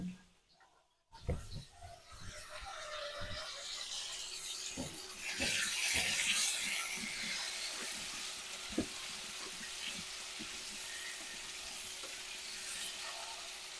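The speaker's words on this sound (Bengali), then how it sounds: "মানকচু খুব ভালোভাবে ভেজে নিয়েছি" Taro (mankochu) fries with spices in a pan, a bright sizzle that swells after a brief quiet opening, with repeated scraping taps of a stirring spoon throughout.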